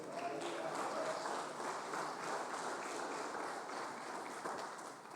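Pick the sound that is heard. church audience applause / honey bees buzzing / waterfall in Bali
church audience applause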